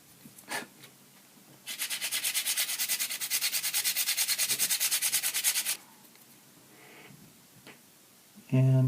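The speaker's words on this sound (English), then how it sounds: "And you can sand this almost immediately" A small part is sanded by hand right after filling with putty, a steady rasping scrape lasting several seconds with rhythmic strokes, close and fairly loud, with quiet pauses before and after.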